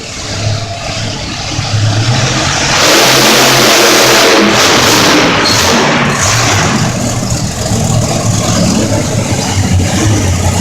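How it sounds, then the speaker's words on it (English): A monster truck engine at a national monster truck event roars loudly up close. It swells into a heavy rev a few seconds in and holds at a sustained, throaty roar. "it's time Paul shut the truck off"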